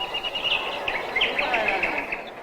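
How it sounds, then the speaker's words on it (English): Birdsong played as a sound effect in an art installation, a run of bright chirps and short whistled trills over a soft hiss, moderately close and continuous. "When you walked on grass, for example, you heard bird noises and lawnmowers."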